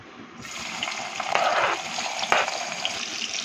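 Thinly sliced onions hit heated oil in a pan, breaking into a bright, continuous sizzle that flares up as the pieces settle and keeps crackling.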